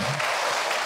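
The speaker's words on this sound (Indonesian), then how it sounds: "Tepuk tangan atuh buat kita semua." Audience applause during an Islamic sermon by a preacher, a steady broadband wash of clapping filling the whole short moment, fairly loud and even, with a faint voice murmur at the start.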